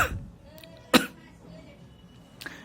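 A man with a lingering cough and cold coughs a few times: one sharp burst at the start, a louder harsh cough near the middle and a lighter one toward the end. The quiet between the coughs sounds like an indoor room.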